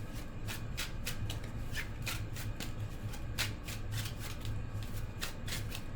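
A deck of tarot cards is shuffled steadily and close up, giving a continuous riffling flutter with rapid crisp card snaps throughout and no talking.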